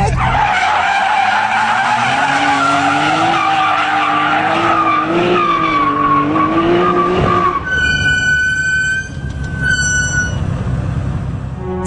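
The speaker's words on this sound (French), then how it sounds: "La voiture hurle comme les démons de l'enfer." A Nissan Skyline GT-R Z-Tune howls as it accelerates hard at high revs, its loud engine note rising through the gears, followed by a sharp, sustained tire squeal.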